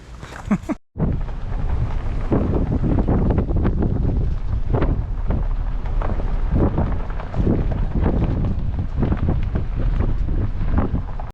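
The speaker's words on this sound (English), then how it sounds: "A little windy today." Strong wind in the Badlands buffets the microphone in a loud, continuous low roar with gusty surges, after a brief dropout near the start.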